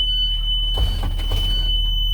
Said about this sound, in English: Emergency exit in the back is labeled on the top. Labeled on the door. The light is lit. Alarm sounds when you open it.